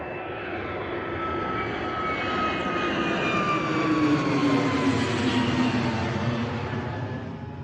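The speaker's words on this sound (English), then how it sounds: "we got another departure, overhead departure coming for you" An airplane departing Bristol Airport passes overhead, its jet roar swelling to a loud peak and then slowly easing off, heard alone without talk.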